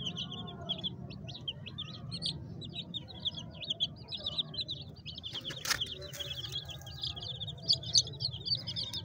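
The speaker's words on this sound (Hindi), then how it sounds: "ये 2 चूज़े हैं असील मुर्गी के" Aseel chicken chicks chirp continuously nearby, a dense stream of high peeping calls over low rustling background noise, with a brief sharp knock partway through.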